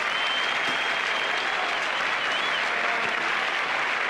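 A cricket crowd at a Brisbane Test, Australia against West Indies in 1988, applauding a batsman out for 90, with dense, steady clapping from a few thousand spectators throughout.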